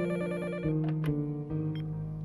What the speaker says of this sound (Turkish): Sabah sen uyanmadan telefon çaldı.